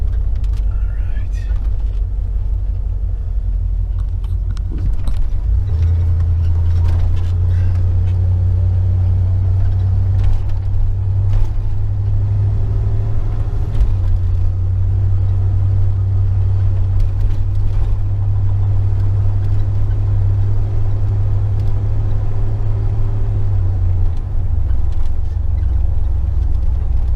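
A gas-powered 2,700 psi pressure washer engine runs steadily and loudly, a constant low droning hum that holds nearly without break for most of the stretch after a brief startup.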